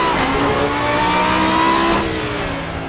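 V10 engine of the GT-M race car in Assetto Corsa, a loud, close, continuous roar climbing in pitch through the gears and then easing off near the end.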